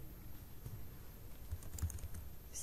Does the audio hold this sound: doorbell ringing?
no